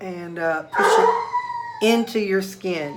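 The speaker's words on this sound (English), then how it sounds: "You can hear my dog in the background." A pet hound whines and howls in the background, with long wavering, pitch-sliding cries rising and falling in several bursts while a person speaks over them nearby.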